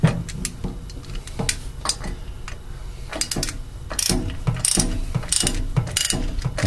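Hand ratchet turning in quick clicking bursts as a new anode is tightened into the valve flange of a Darley fire pump, close and fairly loud with short pauses between strokes.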